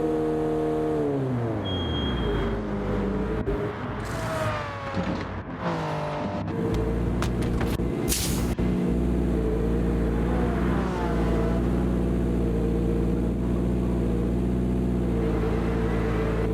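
Race car engine in Gran Turismo pulling away after a pit stop for tires and fuel, a loud sustained drone that climbs through revs and gear shifts, then holds steady at high pitch.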